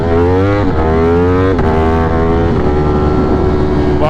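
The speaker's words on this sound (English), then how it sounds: "Wow, we spun really bad there." A Ducati motorcycle engine roars loud and close as the rear wheel spins, its pitch climbing and stepping through several surges over four seconds with no voices.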